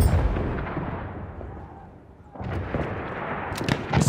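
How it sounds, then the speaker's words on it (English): Heavy gunfire from a machine gun in the Battlefield 1 video game, a dense, loud battlefield wash of shots and booms that dips briefly, then surges back with sharp bursts near the end. "Machine gun right there!"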